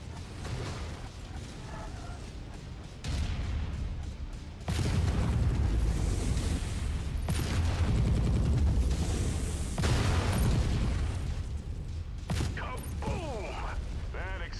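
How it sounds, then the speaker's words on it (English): Explosions and gunfire in a MechWarrior 5 mech battle, with heavy booming blasts and mechanical rumble building over about fifteen seconds, loud and dense throughout with a few bursts of firing near the end. "Kaboom! That explosion just changed the entire dynamic of the battle."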